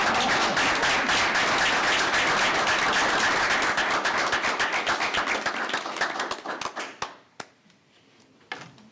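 School board meeting audience claps in a dense, sustained round of applause that thins into scattered individual claps and stops near the end.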